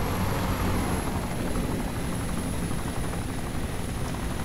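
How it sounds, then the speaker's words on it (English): Helicopter engine in the military video game ARMA 2, a steady loud broadband rotor and turbine roar holding constant throughout with no talk over it. "Guess you don't want to ride in a nice chopper"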